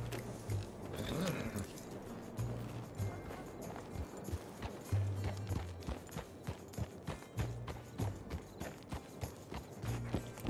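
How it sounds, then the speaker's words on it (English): Horse hooves clip-clop steadily in the RedM western roleplay game, a continuous rhythmic trot fairly close, over a low game ambience with no talk. "That must be Desmond's horse."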